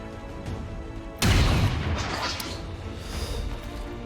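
A soldier firing on an Archon in XCOM 2, a single loud booming gunshot that cracks in suddenly after a quiet hum, then a rumbling tail that slowly fades, with no speech.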